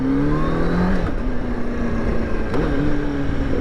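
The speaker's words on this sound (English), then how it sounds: "Oh, there's a Lamborghini Urus." A Lamborghini Urus SUV passes on a shady street in downtown Charlotte, its steady engine drone holding at moderate loudness and shifting pitch as it goes by, heard over a continuous motorcycle engine hum.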